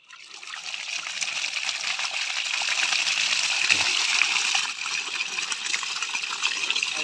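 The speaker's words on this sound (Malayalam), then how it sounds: "ഇപ്പോൾ ഈ പുറം നമ്മൾ ഓസ് വെച്ചിട്ട് എല്ലായിടത്തും കൂടി നനയ്ക്കാൻ പറ്റും." A hose sprays water across a field to irrigate areca palms, making a steady, close gushing hiss that swells slightly in the middle and continues without pause.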